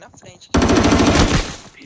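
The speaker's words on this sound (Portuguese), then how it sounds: "tiro aqui na frente" A rapid burst of automatic gunfire in a video game rattles close and loud for about a second, preceded by faint murmuring.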